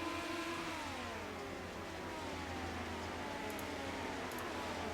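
Midget race car engine on a dirt track, a steady mid-pitched drone with rising and falling revs as it drives away, sustained and fairly distant with continuous crowd-level background.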